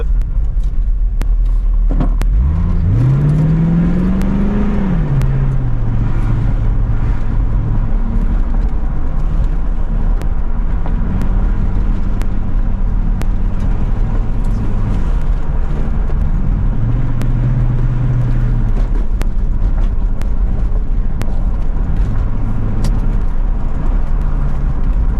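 A 1996 Corvette on 17 x 11 inch wheels drives up a road with a loud interior engine drone, rising sharply as it accelerates early on, then holding and shifting through steady revs and gear changes, with no talk.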